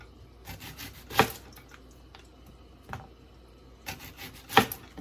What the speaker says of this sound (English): I'm gonna cut that end piece off.